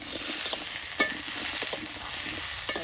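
Fried potatoes with slit green chillies are stirred in a pan, a steady sizzle with a few sharp clinks and scrapes of the spatula, close and moderately loud, no speech.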